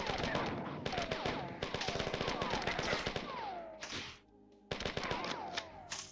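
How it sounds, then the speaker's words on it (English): Rapid machine gun bursts from the 1994 first-person shooter Marathon, repeated volleys of synthetic gunfire broken by a short pause, with a voice talking faintly underneath. "Yeah, machine gun. Miss every shot."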